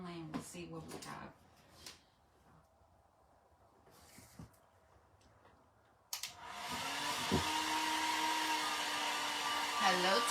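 A handheld drying tool blows steadily over wet paint on a thrifted wooden cottage duck, kicking in midway as a loud continuous whoosh after a stretch of quieter talk and handling.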